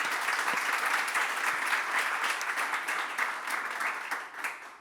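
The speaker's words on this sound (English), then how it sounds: "Let's give them a round of applause" An audience at an ESG investing panel event applauds the panelists, steady dense clapping from a sizeable crowd that gradually thins toward the end.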